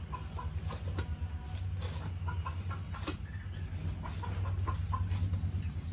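Chickens cluck steadily in a village yard in Kaliruti, Chapainawabganj, with several birds calling over continuous low rural background noise and no speech.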